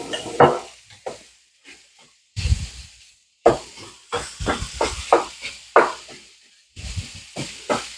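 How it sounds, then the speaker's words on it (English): Ground beef cooking with pepper and onion in a pan gives off repeated sizzling, hissing bursts, rising and falling in short waves as the mixture is stirred, with brief quiet gaps between. "you're going to cook up this ground beef with your pepper and onion mixture"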